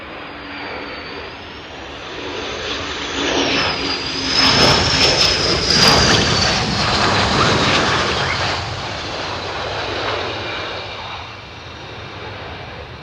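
A military jet at Lakenheath passes near and loud, its exhaust nozzle actuators giving a high rising whistle over a broad roar that swells in the middle and fades.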